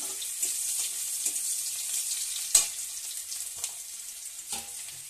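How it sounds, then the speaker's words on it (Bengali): Chopped onions frying in hot oil in a pan while a Bengali fish-head and Malabar spinach dish is cooked, a steady close sizzle with a few soft clicks and knocks, no talking. "এবার দেখো বন্ধুরা তেলের মধ্যে পেঁয়াজ দিয়ে দিলাম।"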